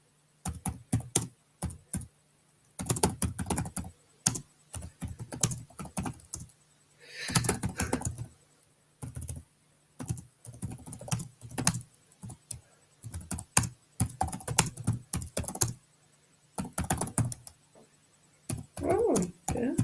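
Steady bursts of typing on a computer keyboard, fast clustered key clicks broken by short pauses, close and fairly loud with little talk.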